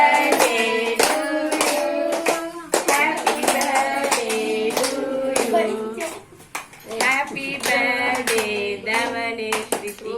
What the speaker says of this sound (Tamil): கைத்தட்டு கைத்தட்டு.